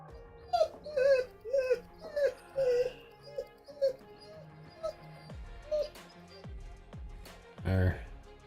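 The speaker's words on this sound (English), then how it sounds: "Little crackhead dog." A small dog named Nezuko whimpers and yips in a rapid series of high, wavering cries at close range, fading toward the end as a person speaks briefly nearby.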